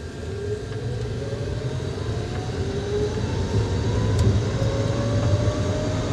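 A Chevrolet S10 pickup converted to electric power pulls away in second gear, its low rolling road rumble and faint rising motor whine building steadily from inside the cab, with no talking.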